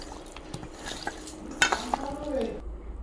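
Chicken pieces being mixed by hand with chili powder and salt, a soft wet squelching and rubbing with a few sharper clicks of utensil or bowl, close and fairly quiet, with no talk.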